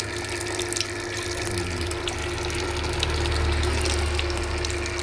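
Water drains out through the pipes of a Kangen water ioniser, a continuous gushing flow over a low pump hum, steady and close, with a few faint mechanical clicks; no talking.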